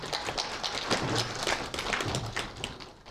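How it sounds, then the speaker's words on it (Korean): Audience clapping at a student information session at Suwon Women's University, a scattered, moderately close patter of hands rising and thinning over a few seconds. "큰 박수를 맞아주시기 바랍니다."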